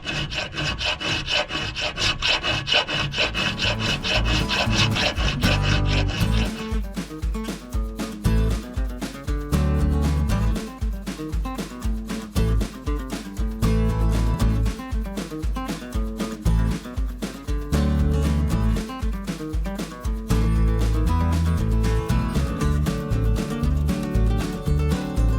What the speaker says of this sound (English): So first I do 2 cuts with the hacksaw.